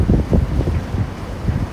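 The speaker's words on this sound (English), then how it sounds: "You can see the wind, guys. It's so windy out here." Strong gusts buffet a microphone on a cold, windy Manhattan street at sunset, a loud, uneven low rumble that pulses throughout.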